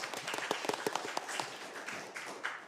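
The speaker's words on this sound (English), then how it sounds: "It's okay to clap." Scattered clapping from a modest audience at a city council meeting, a fairly brisk patter of individual claps with a few louder hits, steady for a few seconds with no one speaking.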